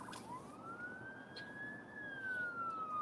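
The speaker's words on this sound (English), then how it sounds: "there goes the ambulance." An ambulance siren passes outside on a Rochester, New York street, a single rising and falling wail that is faint and distant against outdoor background noise.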